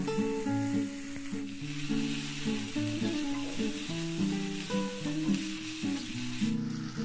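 Tomatoes sautéing in a pan for a bread egg masala, a steady broad sizzle lasting throughout, with melodic background music playing over it.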